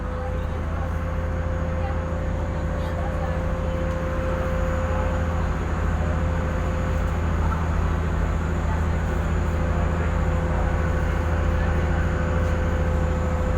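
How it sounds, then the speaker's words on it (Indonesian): KA Jenggala passenger train pulling out of Wonokromo station in Surabaya, a steady, even low rumble and drone of the moving train heard from on board, with a faint tonal whine running throughout. "Kereta api berangkat lagi dari stasiun Wonokromo,"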